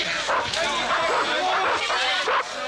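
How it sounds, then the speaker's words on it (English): Dogs bark and yip repeatedly in short bursts at a protest, sounding fairly close amid crowd noise and outdoor commotion. "I'm not quite sure how far the dogs are behind us"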